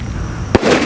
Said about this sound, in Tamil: அரேபியன் நைட்ஸ் இப்போ வெடிக்க போகிறது.